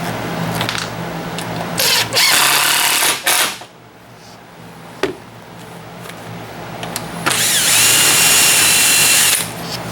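A power drill drives a screw into a front entry door hinge, in loud close bursts of whirring separated by a short pause and a couple of clicks.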